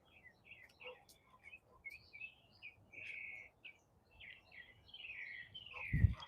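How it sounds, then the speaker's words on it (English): Small birds chirp and tweet in quick, bright bursts against a quiet background, with a single dull thump near the end. "It's the birds chirping."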